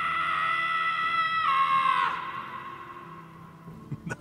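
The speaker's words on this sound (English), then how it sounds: "Scream if you need to dull the pain." A sustained, loud scream of pain from a character in Marvel's Guardians of the Galaxy, a single long cry that holds, pitches down and trails off into quiet sighs.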